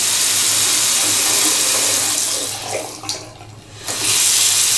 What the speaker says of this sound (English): I tested the faucet